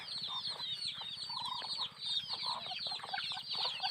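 Several chickens cluck and chatter continuously, close by, while ducks and chickens feed, with scattered higher calls and a steady background murmur.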